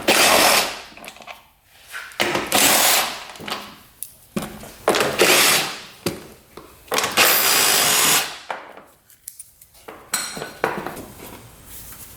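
A power drill backs screws out of a motorcycle's foot panel, a run of loud, close, whirring bursts broken by short pauses and clattering handling noise, with no talking.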